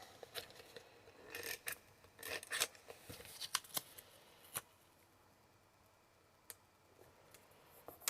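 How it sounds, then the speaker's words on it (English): Tailored Tag Punch cutting shapes out of paper, heard as a series of sharp crunching punches and papery clicks, clustered in the first few seconds then sparse and quiet. "Get them to punch some shapes"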